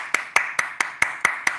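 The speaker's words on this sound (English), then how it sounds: "Let me give you a hand clap." Seven sharp hand claps in an even, steady rhythm, close and fairly loud, each a crisp slap with a quick decay and a short gap before the next, no voices.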